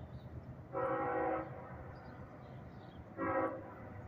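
A CSX M410 freight train rolls past at Elsmere Junction behind a Chessie heritage locomotive, with grain cars up front; a steady low rumble runs throughout, topped by two brief horn blasts, the second a short one.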